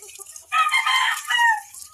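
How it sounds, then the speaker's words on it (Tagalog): A White Kelso or Gilmore Hatch rooster crows and clucks up close just after a bath, its loud, raspy calls coming in two drawn-out bursts. "tapos na si Papa Chicken maligo"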